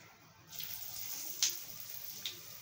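Cabbage vadya slid into hot oil with sesame seeds, bursting into a steady close sizzle that swells after a brief quiet start, with a couple of sharper crackles and no talking.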